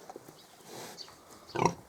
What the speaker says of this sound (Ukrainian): мамка свиня лягла кормити своїх маленьких поросяток